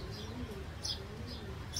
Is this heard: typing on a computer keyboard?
no